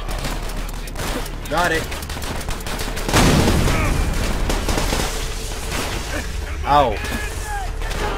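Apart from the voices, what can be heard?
gunfire hitting the player in Call of Duty: World at War video game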